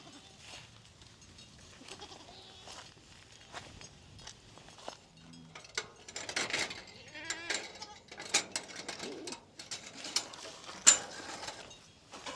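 Goats bleating in a grassy pasture, several calls rising irregularly over low background noise, with occasional louder near bleats, faint footsteps and shuffling.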